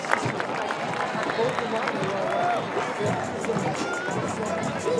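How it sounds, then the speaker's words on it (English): A large crowd at a high school football game applauds steadily after a band performance, the dense clapping and murmur filling the space for several seconds, with scattered voices mixed in. "one more round of applause for an absolutely stunning performance"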